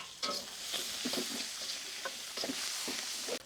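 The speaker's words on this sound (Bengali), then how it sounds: "এখন আমি সেম তেলেই 1 কাপ পেঁয়াজ দিচ্ছি" Onions frying in oil for crab masala, left in the same oil after frying crab, give off a steady close sizzle with repeated scraping stir strokes.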